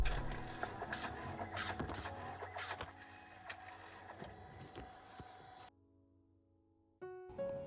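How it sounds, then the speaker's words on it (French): A photo printer prints photos with a busy mechanical whirring and clacking feed. It cuts out to near silence, then starts up again briefly at the end. "j'aurais jamais pensé que imprimer mes photos, ça soit aussi satisfaisant"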